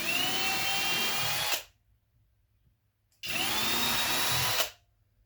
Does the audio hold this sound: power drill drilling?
yes